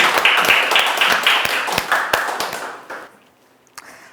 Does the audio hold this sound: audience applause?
yes